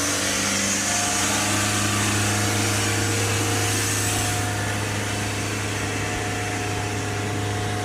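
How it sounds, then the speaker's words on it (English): A Mercedes E220 car engine holds a steady, high droning hum at constant high revs, loud and close, with no voices. "Gonna hold the revs up."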